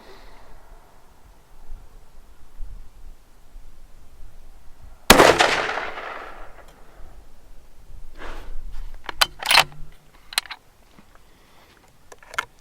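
A 6.5 PRC rifle fires at an outdoor range: one loud, sharp report stands out alone, followed by a few scattered, fainter pops and knocks.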